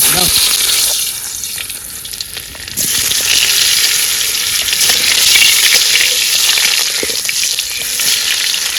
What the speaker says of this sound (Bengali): তেল গরম হয়ে গেছে আলু দিয়ে দেবো